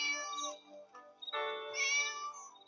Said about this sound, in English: and 2 little kittens